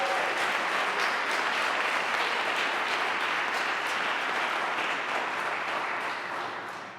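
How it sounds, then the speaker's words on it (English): Audience at a second-chances celebration event applauding, dense sustained clapping from a large crowd that holds steady and begins to fade near the end. "Please give them a round of applause."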